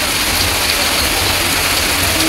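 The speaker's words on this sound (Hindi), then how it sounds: "बारिश स्टार्ट हो गई है ना ज़ोर से" Heavy rain pours down in a dense, steady hiss with no breaks, loud and close.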